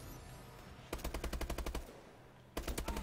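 Automatic gunfire in Call of Duty: Advanced Warfare, a rapid burst of loud, evenly spaced shots lasting about a second and a half, then a pause and a second shorter burst, with no talking.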